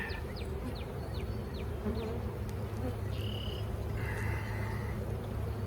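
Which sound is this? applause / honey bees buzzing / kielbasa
honey bees buzzing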